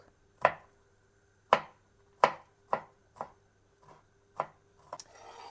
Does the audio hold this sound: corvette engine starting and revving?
no